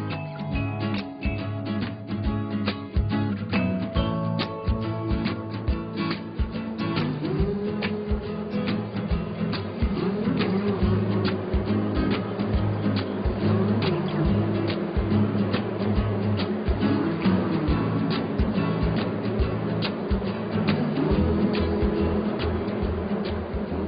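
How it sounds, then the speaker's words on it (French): Honeybees buzzing around lavender honey hives in Provence, in the Alpes de Haute-Provence, a steady dense hum of wings that stays close and fairly loud throughout, with no talk over it. "On va voir les abeilles."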